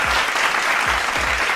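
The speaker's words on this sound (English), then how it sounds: "clap it up for Rodney" A short applause sound effect dropped into a sports talk show, a brisk, dense crackle of many hands clapping, steady and close, lasting under two seconds with low thumps pulsing beneath it.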